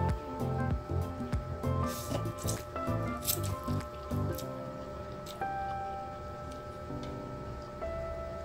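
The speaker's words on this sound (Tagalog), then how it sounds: "Hahaluin ko na guys kasi baka matuyo pa." Cooked veggie noodles are stirred in a pan, giving steady wet squishing and clicking under a continuous busy background, close and moderately loud.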